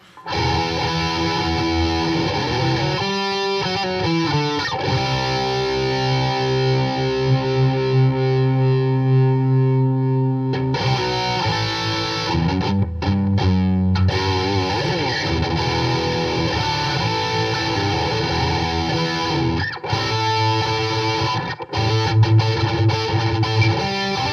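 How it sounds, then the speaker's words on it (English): An electric guitar plays straight through an amp with the effects loop switched off, a continuous distorted tone with sustained notes and chords that stays loud and close for the whole stretch, with no talking. "So this is the amp without the effects loop on, right? This is literally just straight amp."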